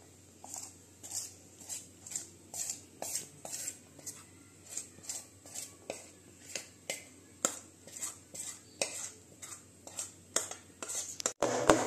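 A cake tin filled with semolina batter, greased with oil and flour, is tapped on a surface over and over: a steady series of light, crisp knocks about twice a second, quiet and close, ending in a louder clatter.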